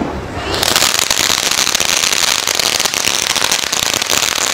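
Diwali firecrackers go off close by as a loud, dense, continuous crackling barrage that starts abruptly and keeps popping without a break, with no talking over it.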